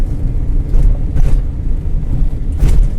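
Car engine rumbling steadily through a gear change while driving slowly, with low droning rises and dips and a few soft surges, close and moderately loud with no talk.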